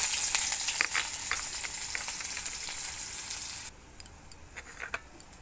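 Onion frying in hot oil in a kadai, a loud steady sizzle that drops off abruptly after a few seconds, then faint intermittent crackles and light clicks.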